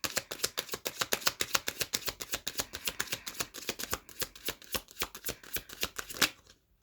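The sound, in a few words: shuffling and pulling tarot cards from a deck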